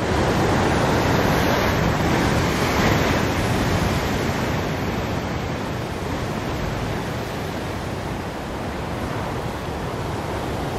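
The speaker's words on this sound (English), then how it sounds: "And they got really big waves right now." Heavy surf crashes continuously, a broad roaring wash of breaking waves close by with no pauses, steady and loud throughout.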